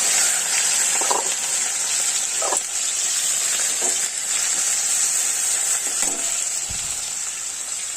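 Onions fry in hot oil with cumin seed and bay leaf for a pabda fish curry, giving a loud, continuous sizzle with occasional stirring scrapes and soft clinks.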